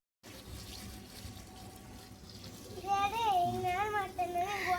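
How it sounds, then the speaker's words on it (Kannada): Water gushes steadily from a garden hose pipe during yard cleaning, a constant close rush that runs throughout while a voice speaks over it in the second half. "ನೀರು ಬಿಡೋದು ಇಲ್ಲಿ ನೋಡಿ ಇಲ್ಲಿ ನೀರು ಬಿಟ್ಟೆಲ್ಲ"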